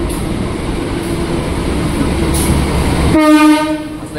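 The KA Bangunkarta passenger train rumbles loudly as it departs Jakarta, then blasts a strong, sustained horn tone near the end over the steady rolling noise.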